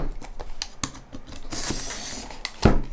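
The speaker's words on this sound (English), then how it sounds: "Cut the little plastic off here." A knife cuts and scrapes at the plastic wrap on a Huawei MediaPad T5 tablet box, close up: a string of small sharp clicks and scratches with brief crinkling, then a louder knock near the end.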